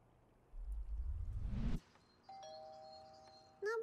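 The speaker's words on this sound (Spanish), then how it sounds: "Usar el timbre." A doorbell chimes in the video game Little Misfortune, a bright two-tone ding that rings out after a rustling footstep-like burst, followed by a second short chime at the end.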